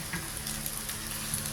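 Chop suey being stir-fried in a pan, a steady close sizzle with faint scraping of stirring throughout, no voices.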